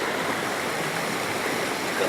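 A waterfall in Brazil gives a steady, dense rush of falling water that holds even and fairly close throughout, with no voices over it.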